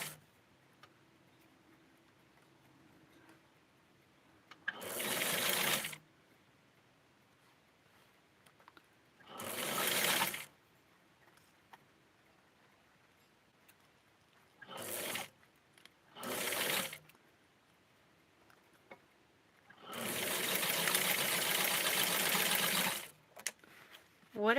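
A sewing machine stitches lace ruffle onto a small Barbie doll outfit in several separate whirring bursts, short at first and then one long run near the end, with quiet gaps between.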